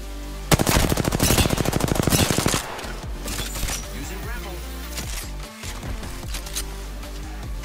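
Rapid automatic gunfire rattles in a fast, loud burst lasting about two seconds during an Apex Legends match, followed by scattered game sounds, with a player talking over the action.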